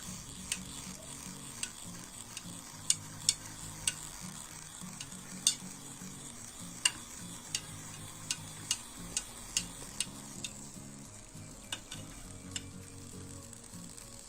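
Water stirred in a container while being heated for a temperature sensor test, with a steady low rumble of sloshing and scattered sharp ticks and clinks of the stirrer against the vessel, close and fairly quiet, no talk.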